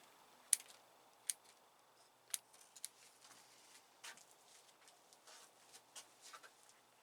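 Scissors trimming the leaves of a Phragmipedium orchid, several sharp, quiet snips at irregular intervals, close by and with nothing else around them.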